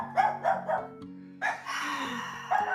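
A dog barks several times in short sharp bursts, fairly close, with a longer yelping stretch in the middle and a final bark, with no talk over it.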